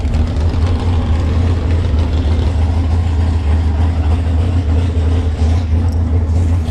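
A dragster engine runs close by at a drag strip, a steady loud low-pitched drone with a rough, throbbing texture.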